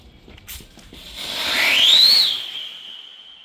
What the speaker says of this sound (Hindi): देखते कितनी ऊपर जाती है और कैसी आवाज़ करता है विसल पोडू रॉकेट